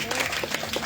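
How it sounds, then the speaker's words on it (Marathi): Audience applause at a Home Minister Khel Paithanicha contest event, a brief burst of loud clapping with a voice over it. "1 2 आणि 3 यांच्यासाठी जोरदार टाळ्या."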